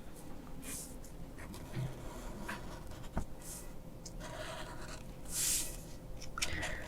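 Pen tracing the outline of a paper heart, soft intermittent scratchy strokes close up over a quiet room, with brief breathy noises between strokes.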